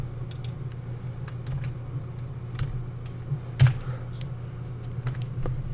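Computer keyboard typing at a desk, a scatter of light clicks and taps over a steady low hum, with one louder knock midway; fairly faint and close, with no talking.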